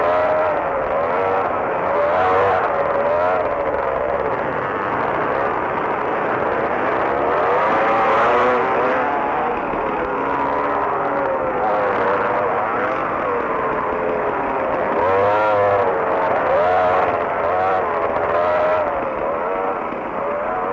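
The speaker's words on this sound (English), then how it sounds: "The bigger bikes come off the jumps a lot faster and go much further." Motocross motorcycles racing and jumping, their engines whining and revving in overlapping waves, rising and falling pitch as bikes accelerate and come off jumps, steady and fairly loud throughout with no one speaking.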